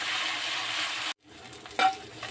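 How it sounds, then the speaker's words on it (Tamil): A handful of drumstick leaves fry in hot oil, a dense bright sizzle that cuts off abruptly and resumes more quietly with a few stirring clicks, close and alone without talk. "அதே எண்ணெயில் ஒரு கை முருங்கைக்கீரை போட்டுக்கோங்க இதே நல்லா வறுத்து எடுங்க"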